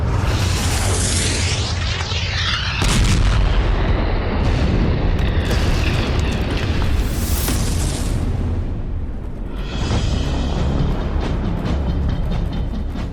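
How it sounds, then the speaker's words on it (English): Successive explosions boom and rumble heavily with deep, continuous roaring and crackling bursts, loud and close, rolling on without a break. "woke up to the sound of successive explosions."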